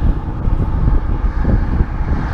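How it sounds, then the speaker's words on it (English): Strong wind buffets the microphone while bicycling outdoors between Avondale and Arnold's Cove, a loud, steady, rumbling roar with gusty swells that fills the short stretch, with no voices. "it's very, very windy today"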